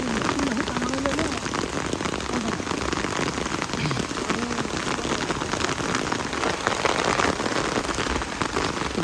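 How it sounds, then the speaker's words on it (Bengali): Rain falls steadily on surfaces outdoors, a dense continuous patter, with faint voices in the background. "কি সুন্দর বৃষ্টি হয়েছে গো।"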